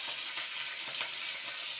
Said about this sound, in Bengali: এই যে গোটা জিরা দিয়ে কাঁচা লঙ্কাগুলো দিয়ে দিচ্ছি,